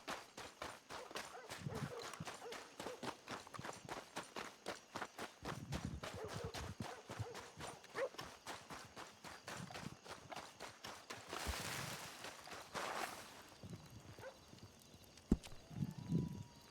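Horse hooves clip-clopping in a western roleplay video game set in 1902, a steady rhythmic trot of close, crisp hoof beats continuing throughout, with a sharp louder knock near the end.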